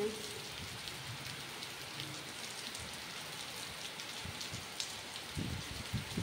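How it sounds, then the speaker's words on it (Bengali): Heavy rain falls in a village setting beside mango trees, a steady dense hiss with scattered nearby drips and splashes, fairly soft and continuous throughout, with no voices. "ভারী বৃষ্টি হচ্ছে।"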